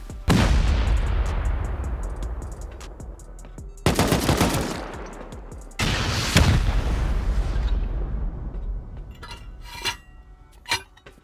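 C4 charges detonating against a clan's base in a survival video game: three loud, booming blasts spaced a couple of seconds apart, each followed by a long rumbling decay, then fainter scattered impacts afterward.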